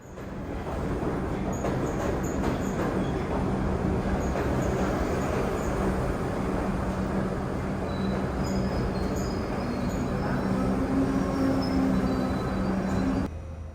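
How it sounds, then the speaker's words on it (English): A New York City subway 3 train rumbles loudly and steadily as it pulls into a station, with metallic squeals and hiss over the roar, then the noise cuts off. "This is the 3 train arriving"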